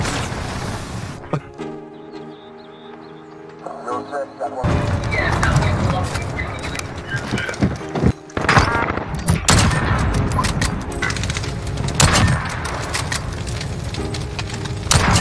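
A bomb blast in Call of Duty: Modern Warfare (Search and Destroy mode) erupts as a loud, close burst that turns into sustained, heavy rumbling and crackling. Gunfire and mechanical clatter follow, and a voice talks underneath.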